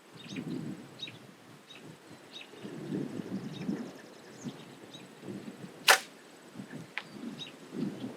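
A single sharp crack of an arrow shot from a bow hitting rings out midway through a quiet, windy outdoor hunting scene, with faint bird calls and soft wind rustling around it.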